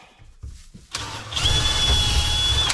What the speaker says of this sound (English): let me just pre-drill that